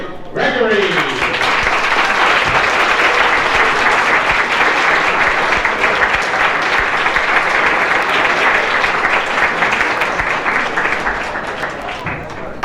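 A nightclub audience bursts into loud, sustained applause as comedian Dick Gregory is introduced in 1961, dense clapping filling the room nearly thirteen seconds before starting to taper off.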